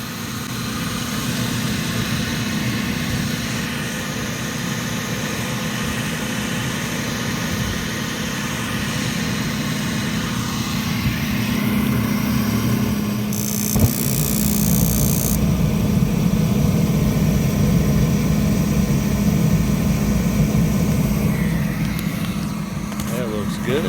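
A Trane gas package unit runs steadily after its gas supply is restored, giving a continuous low hum and drone that holds level throughout, with people talking over it.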